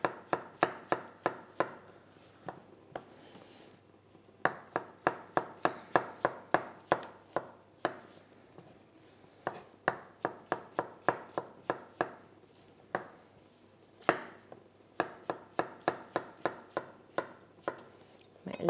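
Large mushrooms being cut with a knife on a board for mushroom and turkey pasta, bursts of quick, crisp chopping thuds in rapid runs separated by short pauses, close and clear with no talk.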